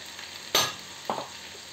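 Minced garlic and mustard seeds dropped into hot oil for mango pickle, giving two short crackling sizzle bursts, the first louder, over a faint steady frying hiss.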